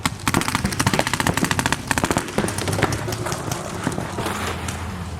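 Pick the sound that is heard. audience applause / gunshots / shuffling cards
gunshots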